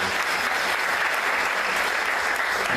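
Audience clapping steadily at a graduation ceremony for a cooking course, dense and continuous applause throughout with no voices standing out.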